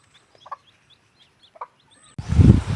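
Roosters and a hen give a few soft, scattered clucks at morning feeding, then a louder burst of rustling, scratching commotion closes out the moment, with no talk.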